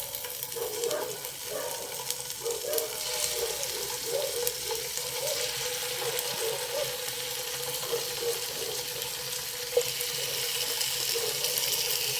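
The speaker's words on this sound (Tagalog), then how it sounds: "Mainit na yung ating mantika mga kacharis. Lagay na natin yung chicken." Chicken wings fry in hot oil in a pan, giving a steady, dense crackling sizzle that continues close up and fairly loud for the whole stretch, with no voices.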